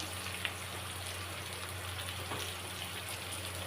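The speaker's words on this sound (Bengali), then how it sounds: "পেঁয়াজটা ভালো করে ভাজবো" Onions and potatoes fry in oil in a pan with a steady fine crackling sizzle. A hum runs continuously underneath, and no one speaks.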